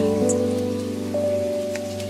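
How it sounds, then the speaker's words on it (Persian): Steady rain patters softly under a sustained tonal music bed, the drops forming a continuous wash with a few scattered brighter taps across two seconds. "دارد باران میآید."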